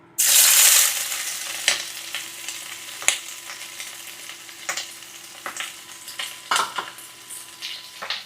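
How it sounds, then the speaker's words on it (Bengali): Seven or eight onions and eight to ten green chilies hit hot oil in a pan with a loud sizzling burst. The frying settles into a steady hiss, broken by irregular clinks and scrapes of stirring. "পেঁয়াজ মরিচগুলো একটু নেড়ে চেড়ে নিচ্ছি"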